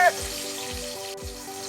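Chicken pieces go into a pot for sinigang with a soft, steady sizzle, while three dull low thumps land at an even pace under a faint hum.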